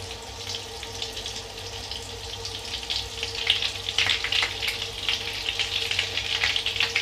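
Butter melts and sizzles in a pan for oven-baked künefe, a crackling fizz that grows busier and louder toward the end over a faint steady hum.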